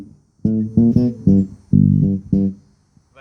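Fender Jazz bass played on its rear pickup alone, a short phrase of about six plucked notes with a tight, focused tone, close and dry without talk.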